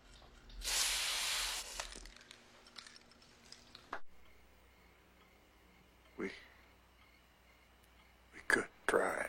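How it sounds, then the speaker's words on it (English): Hair paint is sprayed from an aerosol can in a circular motion onstage during a theatre performance: one loud, close hissing burst lasting about a second, then quieter moments with scattered voices and small noises. "You're supposed to spray in a circular motion."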